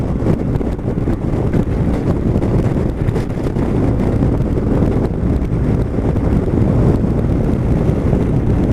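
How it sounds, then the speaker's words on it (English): Strong, relentless wind battering an outdoor microphone, a loud continuous low roar and rumble with constant buffeting and no letup. "This last hour and a half we've been absolutely battered by this wind."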